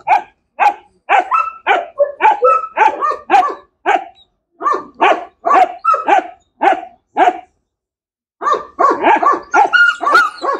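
A dog barks repeatedly and close by, sharp yips and barks in quick bursts, with a brief pause before a final flurry.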